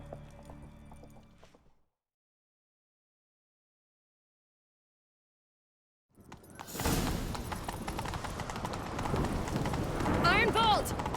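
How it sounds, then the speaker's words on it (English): Hooves clip-clop in a quick galloping rhythm amid busy game sounds and music in The Witcher 3: Wild Hunt, after a stretch of silence; voices speak briefly at the start. "Grab a horse, we'll chase him down."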